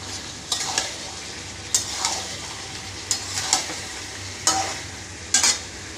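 A pan of cooked bottle gourd with fried fish added hisses steadily while a utensil scrapes and stirs through it in brief bursts every second or so, close and clear with no talking.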